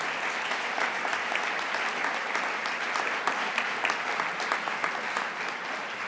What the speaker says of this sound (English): If I could ask you to share a round of applause for the great staff of Fire Dog and the staff here at the AGO.